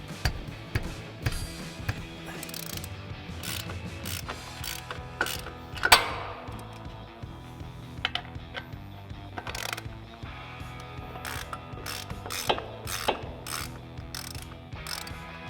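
Ratchet breaking loose the brake caliper bolts on a 2016-2024 Camaro, rapid clicking pawl bursts and metallic clanks in short irregular spurts, close and fairly quiet.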